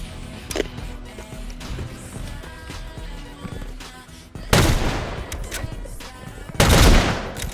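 Gunfire in a sniper-duel Xbox video game, with a sharp early shot followed by two heavy bursts of noisy, booming fire later on over a busy background.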